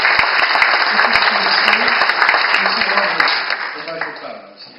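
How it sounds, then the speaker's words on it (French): A crowd at a Corsican insurrection commemoration gives sustained, dense applause to honor Isaline, steady and loud before tapering off at the end. "Nous allons applaudir à Isaline,"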